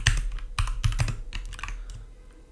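Quick bursts of computer keyboard typing enter a git commit message, close and crisp with irregular clusters of keystrokes and short pauses, no voices.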